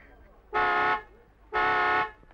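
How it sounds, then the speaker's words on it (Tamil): A car horn honks twice in quick succession, two loud, even toots about half a second each, close by, with a brief pause between them. "ஹார்ன் அடிச்சு அவளை கூப்பிடுங்களேன் ப்ளீஸ்."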